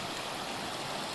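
A river stream flows steadily beside Tangkhuwa Khola near Dhankuta, its rushing water making an even, unbroken wash of noise that fills the whole moment with no voices.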